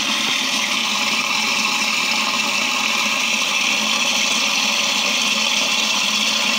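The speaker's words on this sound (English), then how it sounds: "There's just about as much of that going through that tube to the manifold to fill the rim rinse." Water rushes steadily through a new old-stock brass fill valve as a 1967 American Standard Luxor vent-away low toilet refills, a loud, continuous close hiss with no speech.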